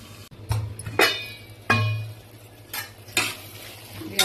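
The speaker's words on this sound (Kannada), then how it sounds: "ಯಾವಾಗವಾಗ ಕೈ ಆಡಿಸ್ತಾ ಇರಬೇಕು" A spoon scrapes and clinks against a pan while bitter gourd gojju fries, several sharp stirring strokes over a low, steady sizzle, close and moderately loud with no voices.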